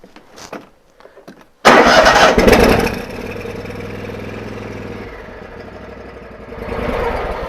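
A 2022 Cub Cadet Enduro XT3 GSX lawn tractor engine cranks and catches abruptly after a few quiet clicks, roaring loudly up close before settling into a steady idle that rises slightly near the end.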